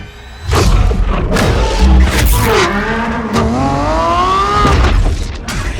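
A Lamborghini Revuelto engine roars and revs loudly and continuously, with rising and falling pitch sweeps, a deep rumble and a few heavy thuds throughout.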